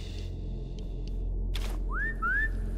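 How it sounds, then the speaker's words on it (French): Two short rising whistles in Sniper Elite 5, sounding moderately loud over a low ambient rumble, with a brief burst of noise just before them. "Un sifflet."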